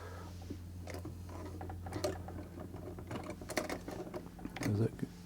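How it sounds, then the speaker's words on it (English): Vulcan Senior child's chain-stitch sewing machine running with a quiet, steady mechanical whir and light ticking, a voice talking over it near the end. "It's a chain stitcher, so it should be able to chain out."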